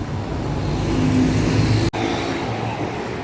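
Street traffic in Port Louis, Mauritius, with buses and cars, makes a steady roar of passing engines close by, swelling as a vehicle goes past, then briefly cutting out before the rumble resumes.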